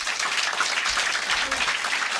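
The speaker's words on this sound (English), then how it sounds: "Can we give Jeff a big round of applause for coming?" Audience applause at a startup conference talk in Silicon Valley, a steady wash of clapping from a crowd that fills the short stretch evenly from start to finish.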